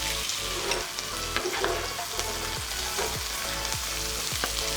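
Garlic, curry leaves and chopped chili fry in a hot pan for a prawn and cabbage stir fry, a steady loud sizzle with occasional clinks and scrapes of stirring.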